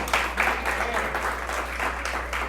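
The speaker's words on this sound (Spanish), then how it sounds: "¿Alguien le da un aplauso a Jesús?" A church congregation applauds during a Spanish-language sermon, a short, moderately loud round of clapping in a reverberant hall over a steady low electrical hum.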